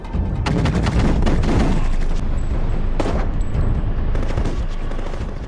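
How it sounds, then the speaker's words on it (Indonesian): Heavy gunfire rattles through a one-sided exchange in a Walking Dead battle scene, with loud overlapping rapid bursts and booming shots that barely let up, close and dense throughout. "Terjadi adu tembak di antara mereka yang tidak seimbang."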